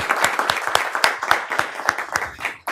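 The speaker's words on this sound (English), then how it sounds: "we gave her a round of applause" A small group at a board meeting gives a round of applause, with close, distinct hand claps in a quick uneven rhythm that carries on for a few seconds before cutting off.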